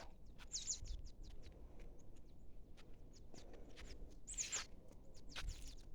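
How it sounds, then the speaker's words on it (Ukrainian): Small birds chirp and tweet in a home vegetable garden after a thunderstorm, with short bright calls scattered across several seconds. The calls are fairly close and clear, with faint rustling and steps beneath them. "А пташки як співають"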